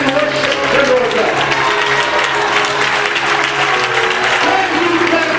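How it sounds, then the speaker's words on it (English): A church congregation clapping hands together in worship during a conference service, a dense, loud, continuous wash of applause with crowd murmur and a sustained musical tone beneath it. "can you clap your hands and worship the Lord God?"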